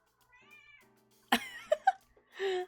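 Pet cat meowing while being petted indoors, a soft short meow followed by a few louder, chirpy meows, close to the microphone and with no talk.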